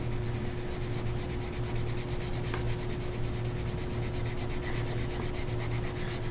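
Graphite pencil shading a large background area on paper in a still-life sketch, a steady close scratchy rubbing with rapid back-and-forth strokes over a constant low hum.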